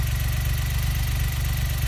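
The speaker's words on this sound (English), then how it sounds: "I'm actually talking to you with the engine running" The engine of a 2018 Textron Prowler Pro XT side-by-side idles close by, a steady low rumbling drone with an even pulsing throb and no variation over the short stretch, no talking.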